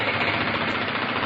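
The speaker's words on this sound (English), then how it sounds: "Yes, under the river. Can you hear the drill?" A drill works in a tunnel beneath a river, giving a dense, loud, steady mechanical roar with rapid rattling vibration and no pauses across a short burst.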